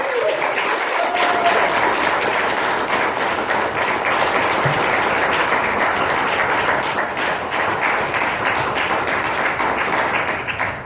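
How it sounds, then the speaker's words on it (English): Sustained audience applause after a talk on advocacy for survivors of sexual assault, dense steady clapping from a large crowd lasting about eleven seconds and tapering slightly at the end. "let's give Donna Kelly a round of applause"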